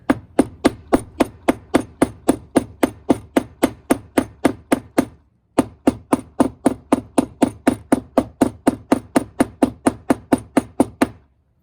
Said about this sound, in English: now you can simply take your hammer